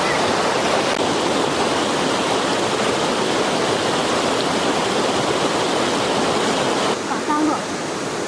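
River water flowing steadily where people are fishing, a loud continuous rushing wash throughout, with faint voices near the end.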